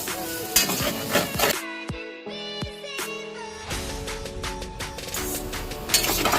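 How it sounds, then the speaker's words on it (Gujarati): Spoon stirring boiled spiced potatoes with fresh coriander in a pan, scraping and clinking against the metal in uneven strokes over a light sizzle, close and fairly loud throughout. "હવે ફરીથી મિક્સ કરી લઈશું."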